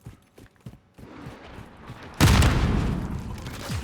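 A grenade blows up in Call of Duty: Modern Warfare II with a sudden loud, close boom and a sustained roar of debris, after a stretch of quieter clicks and movement sounds.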